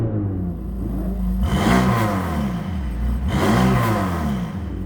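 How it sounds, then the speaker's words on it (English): A Mercedes-AMG GT Black Series revs with its exhaust flaps closed, two rising and falling blips over a steady, close idle drone. "So here's revving with the flaps closed."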